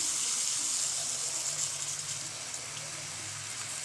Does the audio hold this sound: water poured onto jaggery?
yes